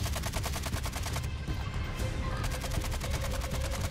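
Rapid gunfire in a Warzone battle, a dense, steady train of loud shots that is briefly broken up, then resumes and continues to the end.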